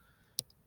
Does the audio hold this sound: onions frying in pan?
no